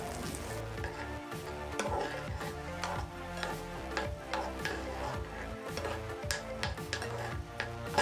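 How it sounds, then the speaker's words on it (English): Butter and marshmallows melt in a pot and are stirred steadily, a soft continuous sizzle with light scraping. Quiet, repetitive tonal sounds play in the background throughout. "so now I'm just waiting for the marshmallows to melt. Yum. Keep stirring, keep stirring."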